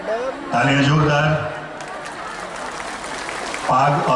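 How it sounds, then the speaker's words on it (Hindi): A crowd at a public meeting in Mithila, Bihar claps under amplified speech, the applause a continuous mid-level wash beneath a voice that talks over it at the start and end. "तालियां जोरदार"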